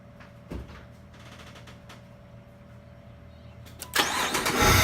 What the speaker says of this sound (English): the voltage is gonna drop when we crank over the starter motor